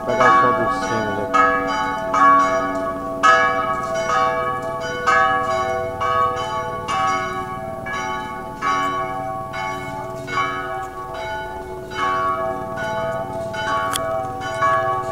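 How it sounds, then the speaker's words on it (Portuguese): The bell of the 18th-century Church of São Francisco in Paranaguá, Brazil, rings loudly and repeatedly in a steady rhythm, each strike ringing on with long, overlapping tones. "Vou pegar o som do sino ali."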